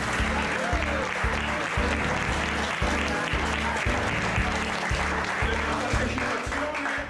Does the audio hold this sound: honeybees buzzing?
no